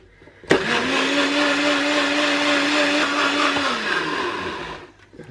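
A blender making a strawberry cheesecake smoothie kicks on abruptly and whirs loudly at a steady pitch for about four seconds, dips slightly, then winds down to silence.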